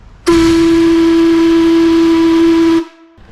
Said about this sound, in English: I'm only going to blow this once.